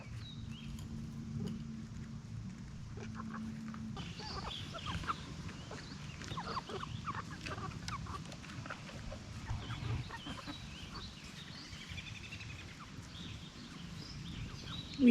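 Backyard chickens cluck steadily and softly at a moderate distance over a quiet outdoor background, with several overlapping hens and occasional sharper calls throughout, and no talking.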